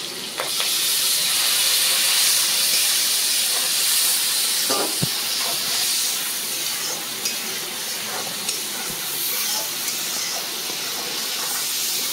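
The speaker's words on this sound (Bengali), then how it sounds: "দেখুন লঙ্কা গুঁড়ো আর হলুদ গুঁড়ো জল দিয়ে একটা মিশ্রণ করেছিলাম, সেটা দিয়ে দেবো।" Chili and turmeric powder mixed with water tipped into hot oil over fried cumin and green chilies, giving a loud, steady sizzle and steamy hiss that holds throughout with a few soft stirring knocks.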